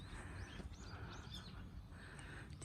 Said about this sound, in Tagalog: pakinggan nyo po yung mga huni ng mga ibon